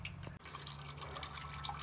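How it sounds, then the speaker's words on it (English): Engine oil drips steadily from a punctured oil filter on a Cummins X15 in a Peterbilt 389, a run of quick, faint liquid drips and patters close by, with no talking. "Let that all drain out till it's just dripping out of there before I take it off"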